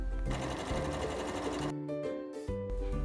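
A sewing machine stitches the sides of a foldable fabric eco bag, a close, rapid mechanical whir of needle strokes that stops briefly near the end and restarts.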